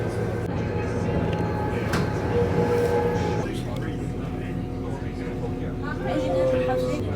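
Inside a moving train heading into Birmingham, a continuous low rumble and rolling drone fill the cabin, with a steady tone shifting partway through and faint chatter in the background.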